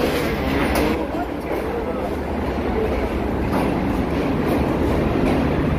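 Green Line Express passenger train running at speed, a steady loud rumble of wheels and rail noise with faint rhythmic clatter throughout, heard from inside the carriage.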